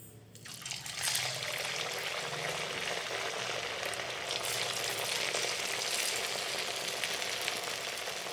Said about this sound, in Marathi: आपलं तेल तापलेलं आहे। आता आपण हे वडा तळून घेऊ।